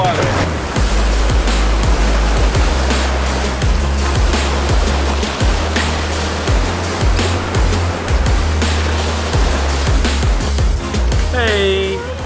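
Ocean waves and surf at Pensacola Beach wash in a loud, continuous broadband roar close by, with a child's and adults' voices briefly heard over the water.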